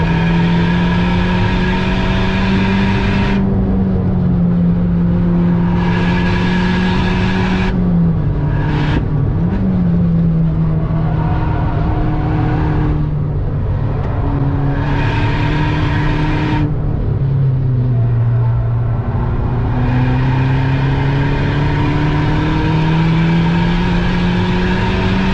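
A Volkswagen Polo WRC rally car engine revs loud and close throughout. The engine note rises and falls as it is held at high revs, with sharp breaks where the pitch drops briefly between gear changes.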